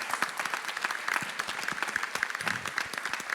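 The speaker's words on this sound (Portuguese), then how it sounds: "Gente, vocês podem aplaudir." A church congregation at a Portuguese-language service applauds steadily, a thick spread of many hands clapping at close range with no pause throughout.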